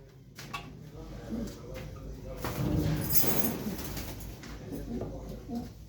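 Pigeons cooing close by in soft, repeated throaty calls at a pigeon sale, with people talking in the background.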